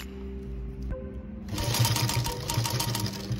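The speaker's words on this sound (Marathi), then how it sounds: "आणि इथे टीप घालायचं आपल्याला।" A sewing machine stitches fabric for a baby bonnet. After a short quiet pause, a fast, steady mechanical rattle of stitching starts up close and runs to the end.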